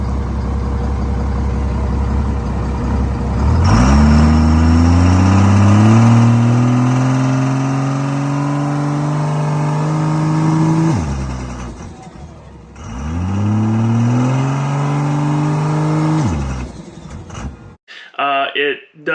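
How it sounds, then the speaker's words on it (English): A drag race car at Thornhill drag strip, troubled by a fuel shutoff fault, revs loudly up close in two long rising surges with a brief dip between, ending in a sputter. "So we go up there to make our pass, and spool it up, roll it in, I set the brake"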